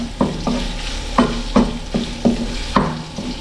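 Garlic, onion and ginger sautéing in oil in a pan, with a loud, close sizzle and a spatula scraping the pan in a steady rhythm of about seven strokes.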